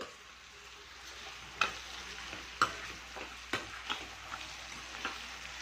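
Onion sautés in oil with asafoetida for gongura kadaiyal, a soft steady sizzle broken by repeated sharp scrapes and taps of a stirring spoon against the pan, with no voices.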